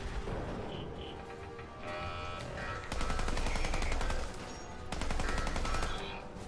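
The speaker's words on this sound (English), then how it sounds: "I'm not doing very well at shooting this thing" Rapid automatic gunfire blasts at a robot in Fallout 4's Automatron add-on, with two dense bursts of shots over game ambience and beeping interface tones.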